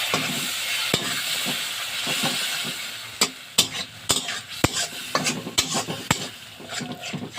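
Spinach for palak paneer sizzles in a pan with a little water as a utensil stirs it, a soft hiss punctuated by sharp metallic scrapes and clinks.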